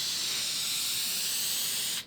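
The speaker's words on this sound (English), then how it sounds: "I'll spray paint it." A steady, loud hiss of spray paint from an aerosol can, continuous at close range, cutting off abruptly at the end.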